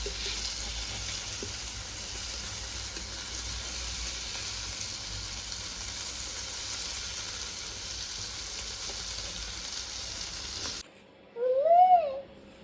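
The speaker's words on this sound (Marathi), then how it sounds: "इथं आपले बोंबील फ्राय पण आता होत आले आहेत." Bombil, Bombay duck fish, fry in a pan with a steady, dense sizzle that runs unbroken for most of the clip before cutting off, followed by a brief tonal sound.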